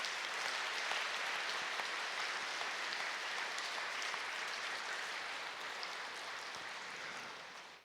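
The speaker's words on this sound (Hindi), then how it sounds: "सभी एक बार जोरदार तालियां बजाएंगे, खूब अच्छी तरह से तालियां बजाएंगे।" An audience at a spiritual gathering claps loudly and continuously for about eight seconds, a dense steady wash of applause that fades at the very end.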